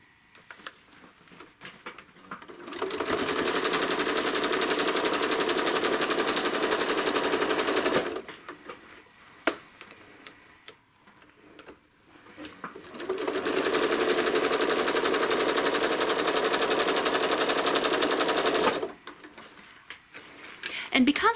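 A home sewing machine runs in two long continuous bursts while quilting a fabric block guided by rulers, a steady rapid stitching whir separated by quiet pauses with brief clicks.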